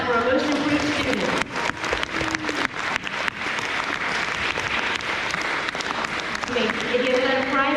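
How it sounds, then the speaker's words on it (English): Crowd at an elementary school awards ceremony for grades 3 to 5 gives a round of applause for most improved students, steady dense clapping with a few brief dips and faint cheering. "Another big round of applause for our most improved students."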